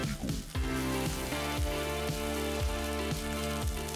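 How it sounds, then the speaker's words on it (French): Leg of lamb searing in a hot pan with its cooking juices caramelising, a loud continuous close sizzle overlaid by a steady, regular rhythmic knocking throughout, without any talking. "je saisis mon gigot sur la dernière face"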